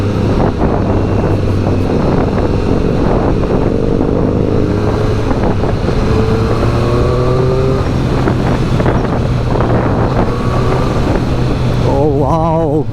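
A loud 2020 Triumph Street Triple RS three-cylinder motorcycle engine roars steadily through its stock exhaust, its note shifting up and down in pitch while wind buffets the microphone throughout.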